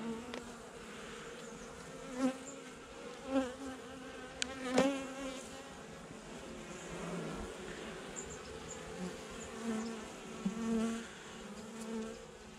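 Honeybees buzz steadily around an open, broodless colony during a November hive inspection, a close, dense hum with individual bees droning louder as they pass nearby, with no voices.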